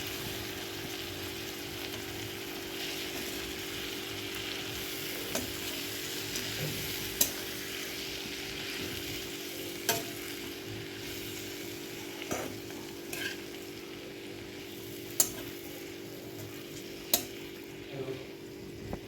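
Fenugreek leaves being stir-fried in a pan for Marathi-style methi dal, a soft steady sizzle with periodic scraping clicks from a spoon over the full stretch, no talking.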